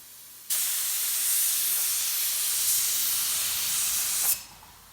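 An HVLP paint sprayer set to 23 psi lets out a steady, loud hiss of atomized spray. The burst runs for about four seconds with no break, then cuts off sharply.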